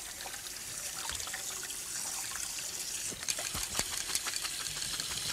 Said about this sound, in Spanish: cocerla justo al dente y darle un baño de agua fría